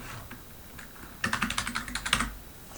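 A quick, even burst of computer keyboard typing, about a dozen crisp keystrokes in a row, close and clear after a quiet start, with no speech.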